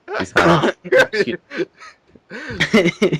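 A person clears their throat and coughs in a few short bursts, close by, with voiced sounds between them.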